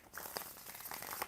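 Tarot cards shuffled by hand, a brief close riffle of crisp papery flicks and crackles, faint and without talk.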